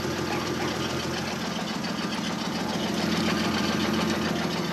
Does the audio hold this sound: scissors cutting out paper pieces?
no